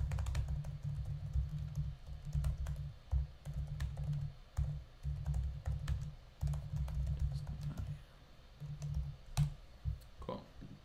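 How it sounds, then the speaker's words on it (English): Close computer keyboard typing comes in quick clattering bursts separated by short pauses, steady and crisp throughout with a few sharper clicks near the end. "Just type in the Discord."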